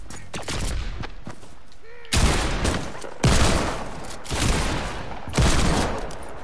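Pistol gunfire in Fortnite, several loud volleys of shots in quick bursts spaced about a second apart, each with a booming tail, after a quieter opening of scattered game sounds.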